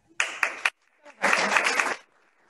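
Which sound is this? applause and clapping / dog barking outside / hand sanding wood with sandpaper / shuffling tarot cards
applause and clapping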